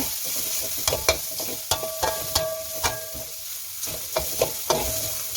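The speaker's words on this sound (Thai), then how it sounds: "ใส่รากผักชีกระเทียมพริกไทยที่ตำไว้แล้วก็เอาไปผัดค่ะผัดเป็นหอมเลยนะคะ" Pounded coriander root, garlic and pepper paste sizzles in a hot pan while a utensil scrapes and taps against the metal in irregular strokes, a close, steady frying hiss underneath with no talking.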